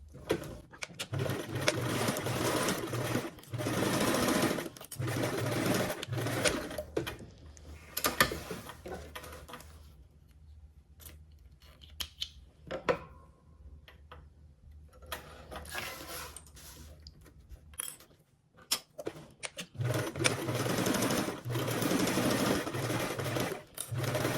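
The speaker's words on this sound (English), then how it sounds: "you're going to go ahead and sew along those 2 sides with a 1/4 seam allowance." A sewing machine stitches two side panels of a bag pattern with a quarter-inch seam allowance. Close, fast mechanical whirring comes in long runs, breaks off for quiet pauses, then starts again.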